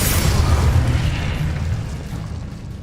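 An Incendio fire spell cast in the Hogwarts Legacy video game, bursting with a loud, deep whoosh and boom that slowly decays into a rumbling roar.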